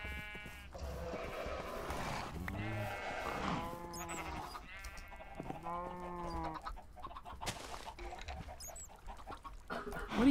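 Sheep in a video game bleating repeatedly, several clear, wavering bleats close by and spaced out over a quiet background, with occasional faint game noises.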